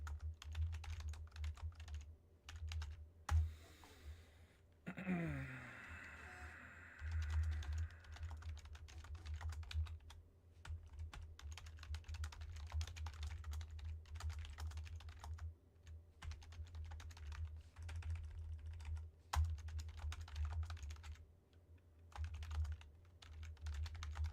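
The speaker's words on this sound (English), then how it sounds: "And typing's hard." Quiet, steady typing on a computer keyboard, a continuous patter of light key clicks with short pauses, close by over a low background hum.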